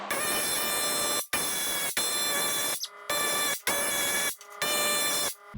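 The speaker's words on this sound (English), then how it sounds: "Oh, man, is my air hammer just weak?" Air hammer busting rivets out of a truck frame, loud sharp buzzing rattles in bursts of about a second, separated by brief pauses, very close and dominant.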